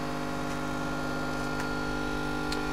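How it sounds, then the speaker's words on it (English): Aerator air pump under a plant in an aluminium-and-glass greenhouse at night, a steady continuous electric buzz with a constant hum, unbroken and close throughout. "That buzzing noise you can hear is an aerator"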